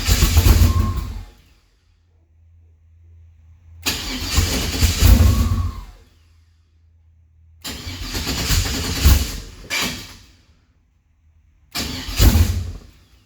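A car engine fitted with Holley Terminator X fuel injection cranks in four loud, close bursts, separated by quiet gaps, each attempt catching briefly without settling into an idle.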